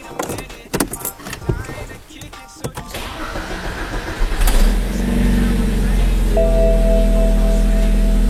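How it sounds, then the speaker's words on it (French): A BMW E90 320i with the N46 engine cranks after a starter replacement, taking a moment to catch with a fuel rail that had been drained. Scattered clunks and handling sounds come first, then the engine fires and settles into a steady, loud idle. "Elle a mis forcément un petit peu de temps à démarrer parce que la rampe d'injection avait été vidée de son carburant"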